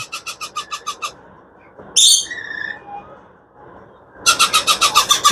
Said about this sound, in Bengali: রিং নেক টিয়া পাখিগুলোর আওয়াজটা হয়ে থাকবে ঠিক এরকম